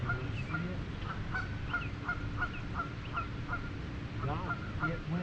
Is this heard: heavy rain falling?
no